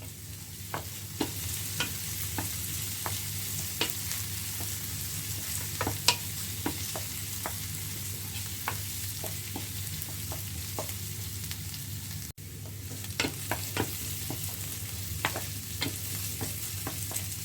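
Steady sizzling of spices tempering in a hot pan for a mung dal dish, with occasional crackles and pops, close and continuous, no voices.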